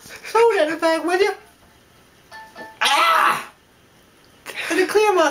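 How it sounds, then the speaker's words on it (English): A man clears his throat in a short, harsh burst, set between stretches of other voiced, hummed vocal sounds, close and fairly loud. "Let me clear my throat"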